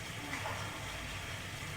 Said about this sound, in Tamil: முதலாவது தண்ணீர் ஊற்றவும்.